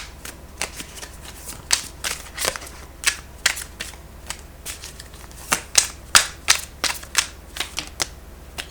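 Tarot cards being shuffled and drawn, giving a long run of crisp, close flicking and riffling snaps in irregular bursts, with no talk.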